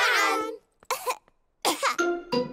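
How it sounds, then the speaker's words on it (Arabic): A Peppa Pig cartoon animal character gives several harsh coughs in short bursts with brief pauses between, close and clear, sounding sick with an infectious cough. "كما ظننت، سعال بيدرو معد حقاً"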